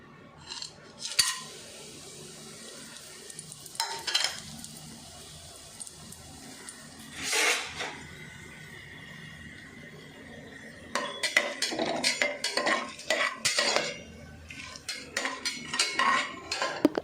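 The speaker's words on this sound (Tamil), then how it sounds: "எண்ணெய் சூடானதுக்கப்புறம் இந்த பிரியாணி எசன்ஸ்லாம் அதில் போட்டுட்டு நம்ம கிண்டிகிட்டு இருக்கணும்" Biryani essence being stirred into hot oil in a pot, heard as a spoon scraping and clinking against the metal in scattered bursts. Denser clattering comes near the end, and no one speaks.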